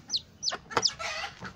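A junglefowl chick peeps in several short, high, close chirps in quick succession, then gives a softer trailing call, with nothing else heard.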